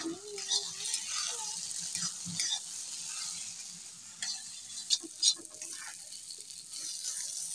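A spatula stirs dried fish (shutki) bagar with plenty of onion in a hot pan. Soft scraping strokes come over a faint sizzle, quiet and close, with a few louder scrapes.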